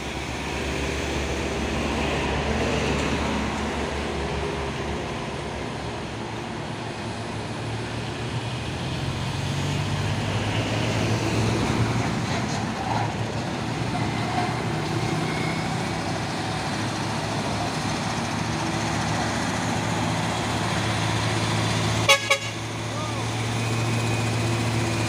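A Fuso 6x2 tronton truck passing on a road, a low, steady engine rumble with ongoing traffic noise and a brief sharp clatter near the end, with people talking over it.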